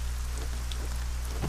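Steady rain in the fantasy video game ArcaniA, a soft, even hiss of falling drops over a low constant hum, with no voices.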